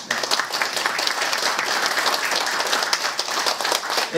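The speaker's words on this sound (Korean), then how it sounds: "뜨거운 박수 한번 보내주십시오." A lecture-hall audience at a leadership academy event claps loudly and steadily for a provincial governor, a dense, even wash of applause lasting the whole stretch.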